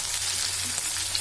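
White onions fry in a pan for a chutney, giving a steady, even sizzle throughout with no voices.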